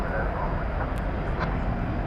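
Boeing 767-300ER operated as Atlas Air, being pushed back at an airport gate: a steady, loud jet engine whine and roar, constant and broad, with a voice talking over it.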